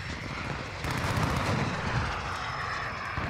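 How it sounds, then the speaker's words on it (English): Cruise missile flying in Call of Duty Modern Warfare 2019, a loud steady jet-engine roar that swells about a second in and holds with no voices over it. "Hello, cruise missile"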